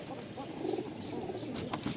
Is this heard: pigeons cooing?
yes